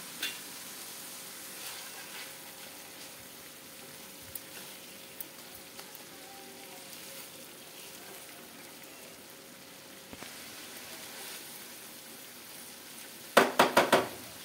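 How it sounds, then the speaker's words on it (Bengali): Spice paste with salt and a little sugar stir-frying in a pan for a Bengali prawn malai curry, giving a faint, steady sizzle throughout with a quick burst of scraping clatter near the end. "দিয়ে দেবো স্বাদ মতন লবণ আর অল্প একটু চিনি দিয়ে এবার মশলাটাকে ভালো করে কষবো।"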